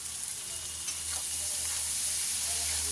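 Onions sizzle in hot oil with dried chilli, ginger and garlic, a steady, soft frying hiss over a low hum that builds slightly as the pan keeps cooking.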